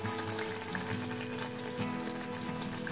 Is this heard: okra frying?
yes